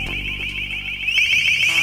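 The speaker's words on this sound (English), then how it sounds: "This is a test of the long-range acoustic device LRAD." An LRAD long-range acoustic device sounds a test alarm tone, a loud, piercing high-pitched signal holding steady with a slight upward sweep near the end, beamed alone without voices.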